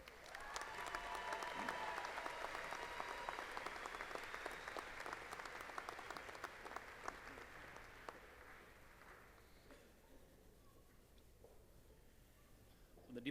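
Sustained audience applause for graduates at a fall university commencement ceremony, a broad crowd of clapping that swells early, holds for several seconds, then gradually thins and fades toward the end.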